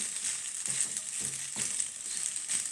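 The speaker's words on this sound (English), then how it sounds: "Mix it up for 5 minutes." Plain white pasta being stirred in a pan over heat, with a steady sizzling hiss throughout and a few soft scraping strokes, close and moderately quiet.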